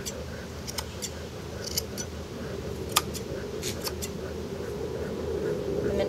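Scissors trimming an animal's fleece for show preparation, with a series of quick, faint snipping clicks close by over a steady low background hum.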